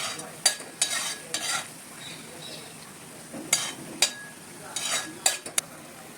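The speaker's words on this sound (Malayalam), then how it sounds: "ഇതൊന്ന് എണ്ണ തെളിഞ്ഞ് വരുന്നവരെ മസാല ഒന്ന് വാട്ടണം." Masala is stirred and sautéed in oil for veg kolhapuri: a low frying hiss under repeated scraping strokes of a spoon and occasional clinks against the pan, close and fairly loud, no voices.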